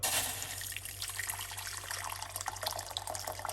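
Hot water pours in a steady stream close by, trickling and splashing into a pot for banana peel tea, over a faint low hum.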